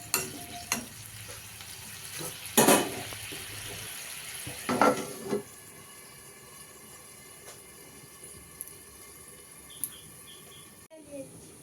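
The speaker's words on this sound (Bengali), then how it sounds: "তো জলটা দিয়ে এখন আর কিছুই দেব না, তো ঢাকা চাপা দিয়ে সবজিগুলোকে সেদ্ধ হতে দেব।" A covered pan of pumpkin and mixed vegetables simmers in water for a Bengali pumpkin ghonto with prawns and coconut. A few clattering knocks come early, then a steady, soft bubbling hiss continues close by.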